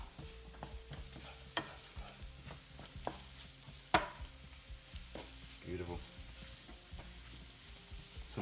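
Onions and garlic sweating in butter in a pan: a soft, low sizzle under intermittent spoon scrapes and light taps, including one sharper knock against the pan midway.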